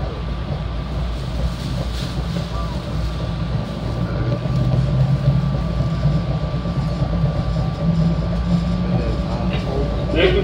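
A train runs steadily along the Newark line toward Claymont, Delaware, with a continuous low rumble and rail noise that swells slightly midway through.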